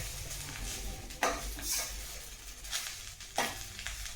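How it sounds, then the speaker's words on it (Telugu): Curry leaves dry-roasting in a pan give off a faint crackling sizzle, broken by a few sharper scraping stirs of a utensil against the metal, quiet and close. "ఈ విధంగా లోపల తడి ఏదన్నా తడి అంతా పూర్తిగా పోయేంత వరకు మనం వేయించుకుంటూ ఉండాలి."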